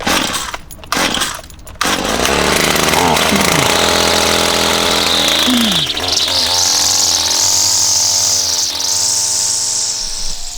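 A gas-powered weed whacker engine fired up and running loud and close, a raspy high-pitched two-stroke buzz that revs and holds steady after a few sputtering starts.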